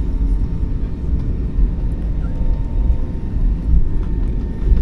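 A steady, low engine drone rumbles continuously, the deep roar of a propeller airplane in a video game holding constant without pauses.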